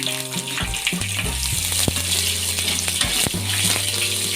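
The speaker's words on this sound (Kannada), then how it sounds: "ಈಗ ಒಂದು ಅರ್ಧ ಕಪ್ ಆಗೋಷ್ಟು ಈರುಳ್ಳಿ ಹಾಕ್ಕೋತಾ ಇದ್ದೀನಿ" About half a cup of onions dropped into hot tempering oil for a buttermilk sambar, giving a loud, close, crackling sizzle with stirring scrapes and utensil knocks throughout, and no talk.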